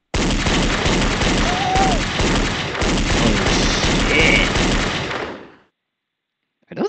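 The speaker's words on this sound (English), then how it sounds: "Are those gunshots?" Dense, continuous gunfire in a video game, with booming shots and rapid bursts, loud and close, stopping abruptly before a brief silence.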